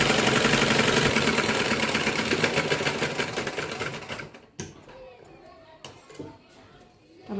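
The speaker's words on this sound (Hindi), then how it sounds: "फिर इसे बस सीधा करके अब सिलाई में लगा देंगे।" A sewing machine stitches an embroidered blouse with a fast, steady rattle for several seconds, then stops, leaving quieter handling noises and a couple of sharp knocks.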